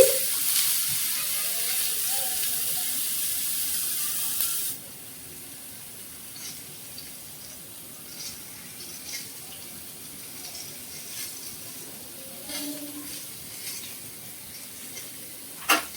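Eggplant pieces with turmeric fry in a pan. A strong, hissing sizzle fills the first few seconds, then drops to a much softer, steady frying murmur with scattered light clicks and a sharper knock at the end.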